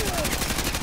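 Rapid automatic gunfire from the Call of Duty: Modern Warfare 2 campaign crackles in a quick burst lasting under a second, loud and dense.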